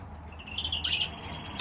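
Several newly bought pet birds, pairs of red, red agate, red black and ivory birds, chirp and twitter in short bright bursts, with a clear trill in the middle over a low steady background hum.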